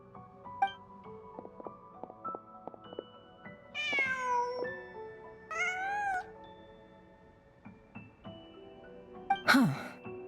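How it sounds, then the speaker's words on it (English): A cat meows in the video game Genshin Impact, with two or three drawn-out meows and a short sneeze-like cry over soft, sparse background music. "Just a cat."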